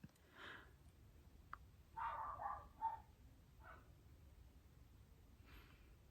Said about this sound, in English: My baby's barking downstairs.